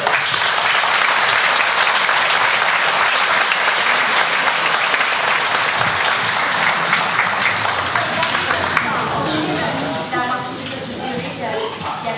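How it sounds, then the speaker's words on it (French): A theatre audience applauds after a French-language stage play by an amateur troupe, steady loud dense clapping that holds for about ten seconds before thinning as a voice begins to speak. "Alors, un bon nouvel applaudissement pour tous les proches."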